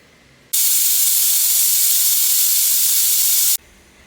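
A loud, steady high-pitched steam whistle from a pressure cooker bursts in, holds for about three seconds, then cuts off abruptly.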